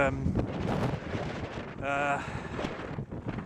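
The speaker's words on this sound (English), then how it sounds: "Not keen on the wind at the moment" Wind buffets a microphone on a coastal walk between Folkestone and Rye, a steady rough rumble and gusty roar running throughout, loud and close, with a voice partly audible beneath it.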